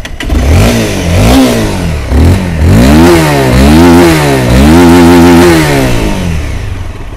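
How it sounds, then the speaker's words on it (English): A 2013 Honda CBR250R with stock exhaust revs repeatedly up and down in several loud, rising-and-falling bursts, heard close up with no talking. "Kita dengar bunyi CBR250 standard macam mana."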